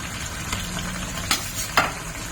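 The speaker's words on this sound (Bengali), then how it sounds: "এখন আমি দিয়ে দিচ্ছি মাছটা" Salted hilsa fish pieces dropped into a pan of hot oil with boiled potatoes give a steady broadband sizzle, broken by two sharp splatter bursts as the fish goes in, with no voices.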